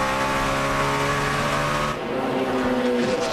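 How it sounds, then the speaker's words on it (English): NASCAR race cars roaring around the track at Watkins Glen, a loud, continuous engine drone with harmonic whine that shifts in pitch midway as cars pass close by. "Jeff Gordon in the 24 car, trying to hold off Kurt Busch"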